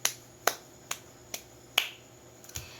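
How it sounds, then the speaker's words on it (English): A class clapping in unison five times, sharp evenly spaced claps about half a second apart, crisp and fairly close in a quiet classroom. "Let us also give them 5 claps for doing so well in this activity"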